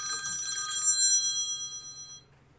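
A telephone bell rings in one sustained burst of bright metallic tones for about two seconds, then cuts off and fades into quiet room tone.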